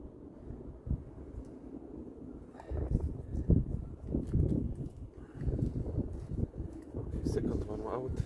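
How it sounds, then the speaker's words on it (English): Strong wind buffets a microphone outdoors during an oil and filter change on a Vauxhall Mokka 1.7 CDTI 4x4, with low rumbling gusts that swell louder partway through and keep going under occasional background sounds. "This fucking wind here, man, it's like in fucking Sahara."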